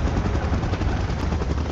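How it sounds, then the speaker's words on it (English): Helicopter in the PUBG Mobile game: a dense, continuous rotor thrum with a loud, steady rattling texture throughout, heard alone with no talk. "Chopper in position."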